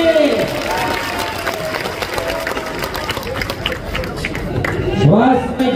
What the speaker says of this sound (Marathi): टाळ्या करा जरा दोन्ही पोरांसाठी